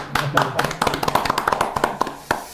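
A small group at a televised meeting with a lawmaker claps in sharp, irregular, close-sounding hand claps for a couple of seconds, with some speech mixed in.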